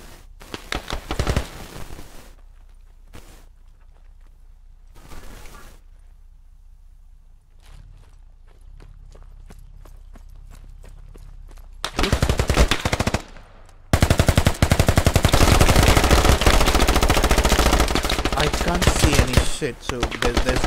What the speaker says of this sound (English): So there's a lot of fire that's coming in.